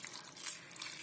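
Drinking water pours into a pot of cut pumpkin, a brief faint hiss of flowing, splashing liquid lasting about a second.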